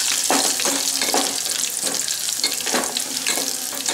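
Green chillies frying in oil, a dense, continuous hissing sizzle with soft periodic swells as the pan is stirred, close and steady for the whole stretch.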